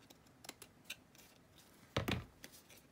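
Scissors trim craft materials, with a few light snips and clicks followed by one louder, close cut, and no one talking.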